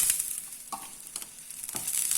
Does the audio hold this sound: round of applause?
no